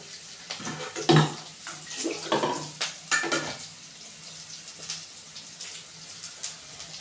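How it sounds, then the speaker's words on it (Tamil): Water splashes into a hot kadai for rava upma in a few uneven bursts, hissing loudly at first and then settling into a quieter simmer. "ஒரு சொம்பு தண்ணி ஊற்றிக்கலாம்"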